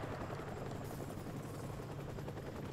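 Helicopter in the Call of Duty: Modern Warfare Remastered video game, a dense steady rotor chop mixed with rapid gunfire bursts, loud and continuous throughout.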